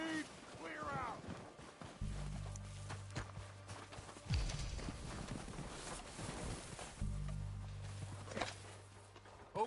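Horses' hooves clip-clop on the ground in the video game Red Dead Redemption 2, a quiet, irregular patter of steps mixed with low rumbling tones and a voice speaking.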